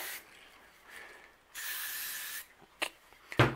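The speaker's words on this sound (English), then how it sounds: "Then you squirt a little inside the mags." Lubricant sprayed inside airgun magazines for MXP, P320 and MCX guns comes out in faint, close hissing bursts, one long spray in the middle, followed by a few small clicks and handling knocks.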